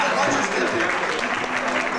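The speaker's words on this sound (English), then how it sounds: "Give him a nice round of applause." Applause from a conference audience greets a young boy called up on stage as a helper, steady clapping filling the whole short stretch with a voice faintly audible beneath it.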